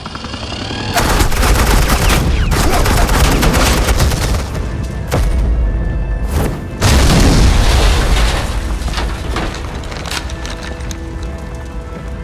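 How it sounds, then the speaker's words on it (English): Heavy gunfire fills a scene from the Batman Telltale Series video game, with a sustained barrage of booming shots and automatic bursts that runs loud and continuous for several seconds before easing off slightly. "This is Agent Quinn, suppressing fire"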